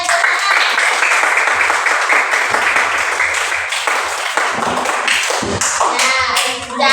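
A classroom full of children claps loudly and continuously, a dense patter of many hands, with young voices rising near the end.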